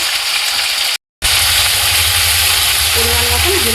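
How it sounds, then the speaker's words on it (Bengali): Spices stirred and fried in a little oil for a chicken leg curry, a steady loud sizzle with a brief cut of silence, then continued frying with low rumble and a faint tonal whine near the end. "হালকা একটু তেলে নেড়ে নিলাম।"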